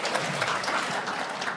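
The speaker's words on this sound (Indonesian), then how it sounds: "Tepuk tangan untuk beliau." Applause from an audience at a school gathering honouring the event moderator, a dense steady patter of clapping that fills the whole short stretch at moderate loudness with no talk over it.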